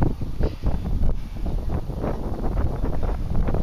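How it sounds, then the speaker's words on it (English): Continuous wind buffeting the microphone, a low rushing rumble that rises and falls slightly without pause. "It's supposed to get windy today."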